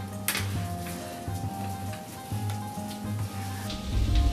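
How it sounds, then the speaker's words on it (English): Pre-boiled potatoes and ground turkey sizzle quietly in a pan, a soft steady crackle with a few louder spits, with a low hum underneath and no talking. "We're going to put all of the potatoes and all of this good stuff here right into the pan."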